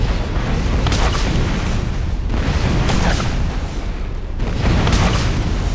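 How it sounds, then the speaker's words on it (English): Missiles exploding in Borderlands, a continuous roar of heavy blasts and rumbling booms, loud and close, with bursts surging every second or so and no talking. "Let's go ahead and use the missiles on them."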